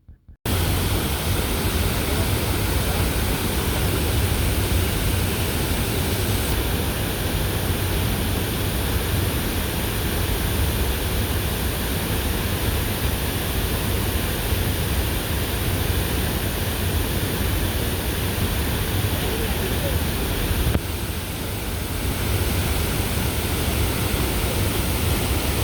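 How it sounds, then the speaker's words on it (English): Steady, loud roar of rushing water from the Bomana waterfall in a forest, a dense broadband wash that continues unbroken throughout with no voices. "finally, we saw waterfall"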